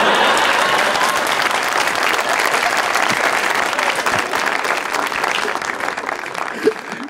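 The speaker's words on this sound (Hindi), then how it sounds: "जोरदार तालियां बजाएं" An audience at a stage show breaks into loud, sustained applause, dense continuous clapping from a large crowd that holds steady throughout.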